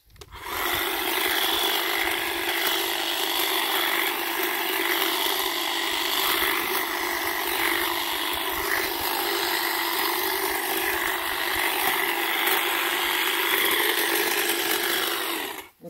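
A Stihl HLA 85 battery hedge trimmer runs continuously for about fifteen seconds, a loud, steady buzzing drone with slight wavering in pitch, starting and stopping cleanly with no talking over it.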